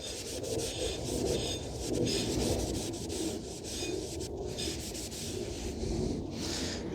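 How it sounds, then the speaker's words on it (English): Rear brake parts on a 2019 Honda Civic 2.0 with electronic parking-brake calipers being wiped down with brake cleaner: a steady, close scrubbing rub of cloth over metal that continues without pause and with no talking. "Just give this a quick wipe with some brake cleaner."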